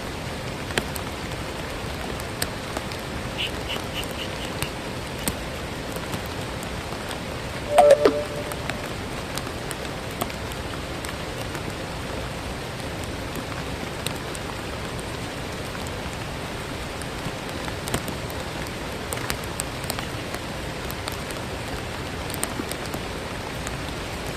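Steady rain patters continuously in Trabzon, Turkey, a soft even hiss with scattered drops tapping nearby; no voices.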